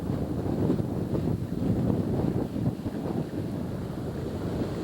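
Strong, brutal wind buffets the microphone on an open golf course, a steady low rumble that gusts and swells for several seconds with no voices.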